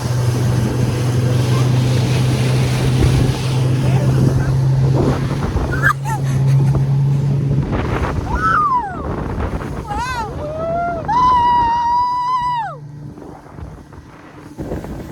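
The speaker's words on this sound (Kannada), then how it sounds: "ಆ್ಯಕ್ಚುಲಿ ನಾವೆಲ್ಲ ಸ್ಪೀಡ್ ಬೋಟ್ ತೊಗೊಂಡ್ವಿ" A speedboat ride on Pykara lake, with steady motor drone and rushing wind and water noise throughout, loud and close; voices and rising shouts or whistles come through in the latter half.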